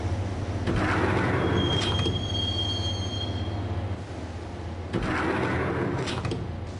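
A train ride in the video game Max Payne: a steady low rumble of railcars with loud metallic wheel squeals rising over it twice, close and continuous, with no talking.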